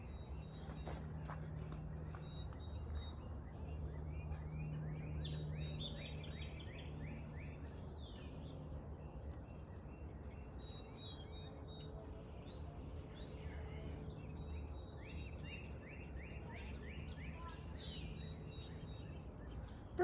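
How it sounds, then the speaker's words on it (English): Small birds chirp and sing in a garden with an Asian pear tree during a solar eclipse, bright calls scattered across the whole stretch over a steady low outdoor rumble. "Birds don't seem to be bothered by the eclipse. They're flying around and singing"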